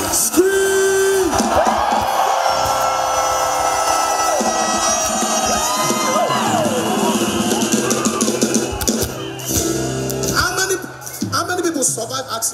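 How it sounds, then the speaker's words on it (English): A church crowd at a worship service yells, whoops and cheers loudly and continuously, with a speaker's voice and music mixed in. "let me hear you scream"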